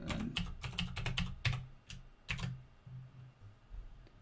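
Fingers type on a computer keyboard while entering Java array code, giving uneven clusters of sharp, close keystrokes with short pauses and no talking.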